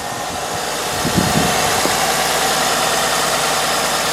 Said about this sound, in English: the TackLife starter did get the engine going